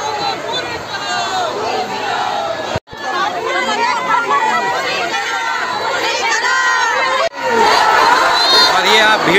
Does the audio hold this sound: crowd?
yes